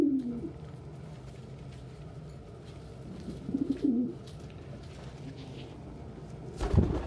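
A pet pigeon or dove gives a few faint coos against a quiet room, with a short, louder burst near the end.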